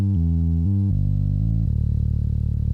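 A synthesized bass line of held low notes shifting pitch in steps, thick and buzzy, played alone and close.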